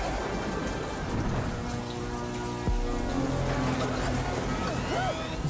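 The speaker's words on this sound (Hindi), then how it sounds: "अब तो तुम्हारे साथ रोने के लिए बारिश भी आ गई।" Steady rain pours down in a continuous, loud hiss, with a rumble of thunder partway through, in an animated movie scene.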